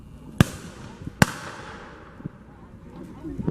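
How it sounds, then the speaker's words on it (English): Two sharp, loud gunshot cracks ring out in a reenacted Seminole attack on Fort King, followed by fainter pops, with voices shouting around them. "Fire Seminoles, fire! They're firing out."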